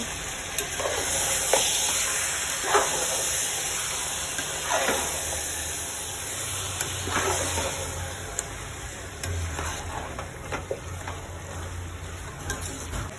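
A chicken biryani mixture is stirred while it fries, the spoon scraping in repeated soft strokes over a steady sizzle and a constant high electronic whine.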